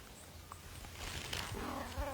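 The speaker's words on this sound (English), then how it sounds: "it is so peaceful this morning, with the exception of my noisy cat down there" An elderly, deaf cat calls loudly outdoors on a peaceful morning, giving a few short, distant cries over soft ambient background with faint birds.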